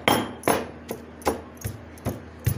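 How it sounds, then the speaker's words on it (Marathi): Masala being pounded by hand for a Kolhapuri-style vangi bhaat stuffing, heard as a series of sharp, fairly close thuds at an irregular, roughly half-second rhythm, with no voices. "मसाला कुटून घ्यायचा आता असं आपण सारखं करून"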